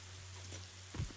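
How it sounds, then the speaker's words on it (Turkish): Light rain pattering in the action video game Biomutant, a soft, faint, even wash with a steady low hum underneath and a brief thump near the end. "Yağmur çabuk bitti."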